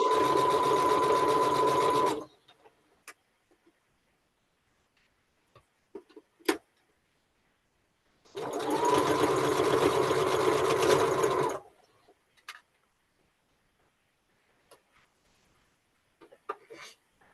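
A sewing machine stitching a quilt block for a Dancing Shoofly pattern runs in two steady, close bursts of about two and three seconds, separated by quiet handling clicks and small thumps.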